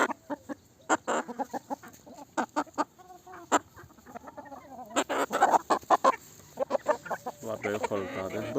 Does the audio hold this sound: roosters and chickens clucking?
yes